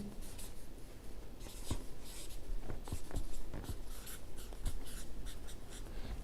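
A pen scratches across paper during a psychology lesson, with quick irregular strokes and taps up close over a faint background hiss.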